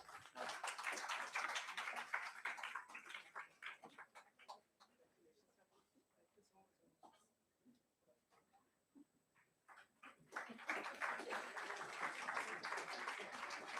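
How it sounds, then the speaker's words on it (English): An audience at an academic conference award ceremony bursts into loud applause, which thins to scattered claps and then swells again into full clapping. "A big round of applause, everyone."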